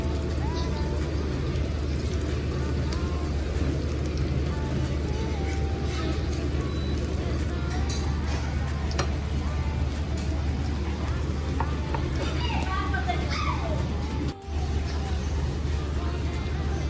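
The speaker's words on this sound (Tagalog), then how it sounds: "This time guys, pwede natin lagay yung bawang." Garlic sizzles in a pan as the start of tuna sisig made from canned tuna, a constant crackling hiss running underneath a person talking throughout.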